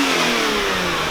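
A stock-exhaust Lexus IS300 revs close by: a loud, steady engine drone holding high rpm, then easing slightly, with a smooth, muted exhaust tone and no voices.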